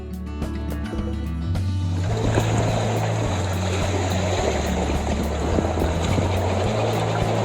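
Sailboat motoring on passage to Newport, Rhode Island: a low, droning engine with rushing water and wind noise building as the boat moves along, steady and fairly loud throughout.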